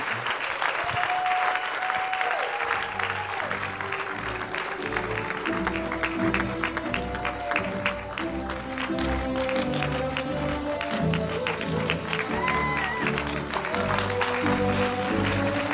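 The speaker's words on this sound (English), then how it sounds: "stand and give them one more hand clap of, of uh, applause tonight" A large church crowd applauds loudly and continuously for a graduating class, with cheers and a few raised voices mixed into the sustained clapping.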